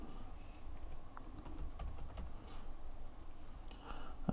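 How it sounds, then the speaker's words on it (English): Fast, steady typing on the keyboard of an HP Stream 11 laptop during first-time setup, a continuous run of light clicky keystrokes close by over a low background hum, with no talking. "Type in what the computer's going to be called"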